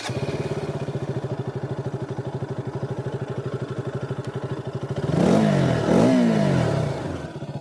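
A KTM Duke 200 motorcycle idles in neutral with a steady, fast, low thumping pulse, then the engine rises briefly in a couple of quick revs near the end, with no one talking.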